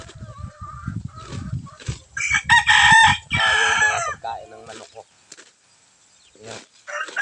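Nearby native Visayan chickens cluck and a rooster crows loudly once in the middle, with quiet background noise between calls.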